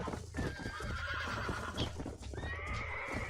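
A horse in the video game Red Dead Redemption, being broken in, gives a loud, close whinnying neigh with faint hoof clip-clops beneath it, no talk.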